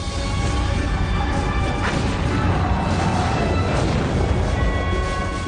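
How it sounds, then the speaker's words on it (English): Heavy, continuous rumbling roar of naval cannon fire from ships, loud and dense, with booms blending together into a sustained thunderous wash. "Cannon fire from the 3 American Navy ships overpowered the Arab guns firing from the water battery."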